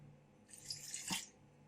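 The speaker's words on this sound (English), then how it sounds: "I think I will add a little more water into it" Water added to green gram dosa batter, a short quiet splash and pour lasting under a second, close by with no talk.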